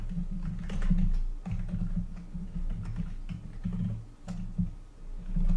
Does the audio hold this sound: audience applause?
no